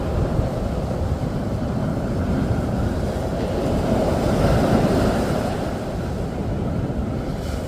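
Ocean waves roll onto Namhangjin beach in Gangneung on a cold day, a steady, loud wash of surf with wind buffeting the microphone throughout and no voices.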